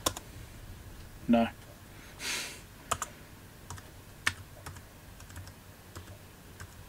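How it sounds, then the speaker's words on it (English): Scattered keystrokes and clicks sound on a laptop keyboard indoors, irregular taps and a couple of louder thumps spread across several seconds, with a single short spoken word early on. "Well, the keyboard works."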